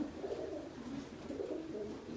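Pigeons coo inside their loft during a rearrangement, a soft continuous layering of low rolling calls that rises and falls close by, with no talking.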